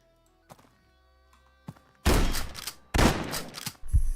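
Gunfire in the video game Quasimorph: two loud, dense bursts of rapid shots with a sharper burst at the end, preceded by a few quiet thumps and low hum.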